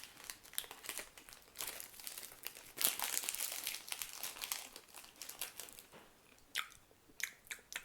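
Crisp crunching and crinkling from close chewing of soft snacks, irregular bites in quick bursts with a sharp louder crunch near the middle, no talking.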